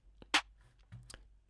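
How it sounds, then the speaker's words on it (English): Two lo-fi clap snare hits from Ableton Live samples with the low end filtered away, sharp and bright, separated by a short gap, faint and close with a softer low thump between. "So this is what those snares sound like."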